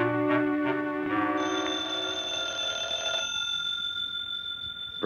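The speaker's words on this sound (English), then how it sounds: "I believe that's the phone." Telephone ringing in an old-time radio drama, a steady electronic-sounding ring with sustained tones repeating through the moment, clear and alone without talk.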